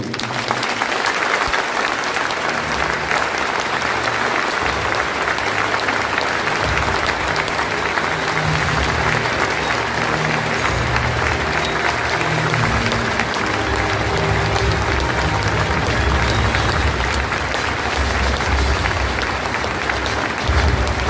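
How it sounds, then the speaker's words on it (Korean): A large audience applauds steadily for the outgoing mayor of Incheon, Yoo Jeong-bok, at his farewell ceremony. The dense, continuous clapping stays loud and full for about twenty seconds with no talk over it. "시장님께 다시 한번 뜨거운 박수 부탁드리겠습니다"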